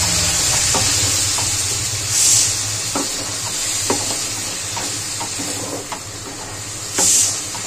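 Ginger paste and spices sautéing in a pan for a prawn and drumstick curry, a loud continuous sizzle and hiss with scattered scraping stirs and two brief bursts of steam.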